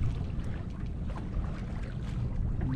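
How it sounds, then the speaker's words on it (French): A sailboat under genoa alone moves through Dakar bay at night, a steady rush of water along the hull mixed with wind noise, with no talking. "Là, on est en baie de Dakar, sous voile, sous Génois seul, en pleine nuit."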